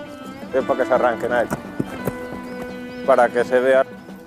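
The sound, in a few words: horse hooves clip-clopping during traditional Spanish horsemanship display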